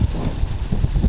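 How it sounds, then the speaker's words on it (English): Cold wind blows down off a winter hilltop at a wild camp around 2000 ft, a brief low buffeting rumble against the microphone, unbroken and without speech. "that wind that's coming down off the top, that it's certainly cold"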